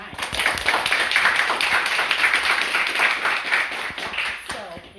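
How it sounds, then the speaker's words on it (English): Audience applause at an evening American Heart Association Month gathering, a dense steady wash of many hands clapping throughout, loud and continuous with no talk over it. "So you all should give yourselves a round of applause for being here tonight"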